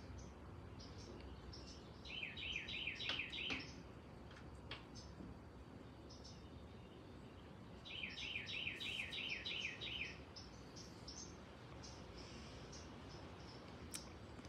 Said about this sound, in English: He's talking, he's chirping away.